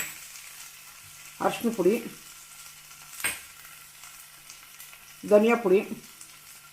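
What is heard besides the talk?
potato rice masala frying in a pan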